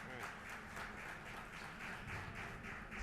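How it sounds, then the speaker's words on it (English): Audience applause greets the Mets executives panel at the Queens Baseball Convention: a faint, dense patter of many hands with a slightly pulsing texture, sustained for a few seconds. "so please welcome them with your applause"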